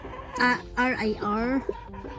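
A Rhode Island Red rooster on a farm lets out a few short clucking calls close by, harmonic bursts with brief pauses between them, mixed with voices talking nearby.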